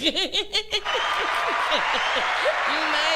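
Laughter and a few rhythmic beats lead into a burst of hand clapping from a small group on a Caribbean radio and TV show, steady clapping with laughing voices mixed in over it.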